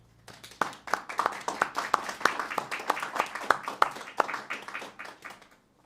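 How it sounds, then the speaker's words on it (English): A warm round of applause from an audience welcoming a speaker at a talk, sharp individual claps quickly merging into steady, fairly close clapping that swells and then tapers off, with no voices over it. "please join me in giving Jim a warm round of applause"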